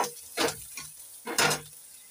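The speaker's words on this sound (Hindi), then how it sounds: "और दोनों मसाले को हम भून लेते हैं।" Red chili powder and spices frying in a pan, heard as two short bursts of sizzling and stirring with quiet pauses between them, close and fairly soft.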